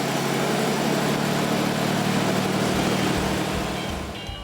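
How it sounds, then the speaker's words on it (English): A classic car's engine runs steadily at idle, a loud, continuous low rumble close by that holds even before easing slightly at the end. "always fire her up just to make sure she sounds as good as she looks"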